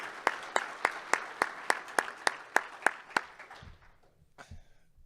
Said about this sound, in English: How about a big round of applause for Michael Admire for all he does for our program?